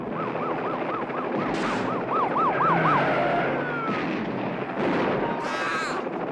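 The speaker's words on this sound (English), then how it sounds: "Ambulance." A wailing ambulance siren cycles rapidly and repeatedly, loud and close, over a busy mix of engine noise and other commotion, from the opening scene of the film Blue Thunder.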